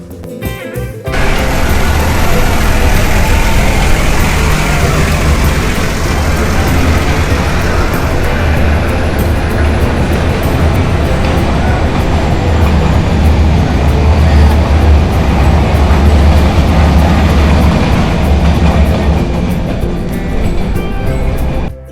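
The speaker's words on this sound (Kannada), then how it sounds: "ಈ ಟ್ರೈನ್ ಈ ಟನಲ್ ಥ್ರೂ ಹೋಗುತ್ತೆ." The Ooty toy train passes through a tunnel, giving a loud, continuous roaring rumble that fills the enclosed space for about twenty seconds without letting up.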